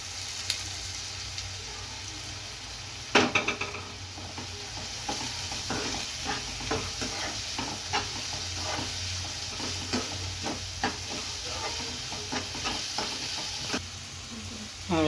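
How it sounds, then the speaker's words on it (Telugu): Onion pieces and two green chillies frying in a pan for an Andhra-style drumstick and chana dal curry, with a steady sizzle under repeated scraping stirs and a sharp clank near the start. "ఉల్లిపాయ ముక్కలు పచ్చిమిర్చి 2 వేసుకుని బాగా కలుపుదామండి"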